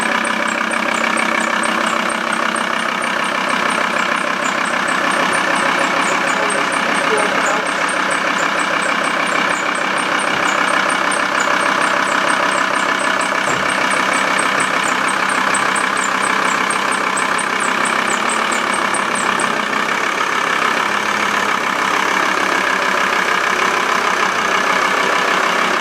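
A Volkswagen T4 van engine under restoration idles continuously and loudly, a steady mechanical drone with a faint ticking rhythm throughout and no talk.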